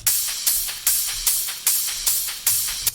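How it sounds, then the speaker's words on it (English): Bright, hissy cymbal loops repeating in a steady groove, with a washing Vengeance ride, crisp offbeat hi-hat hits and a top loop, no low end or voices. "So I have my cymbals then, which sound like this."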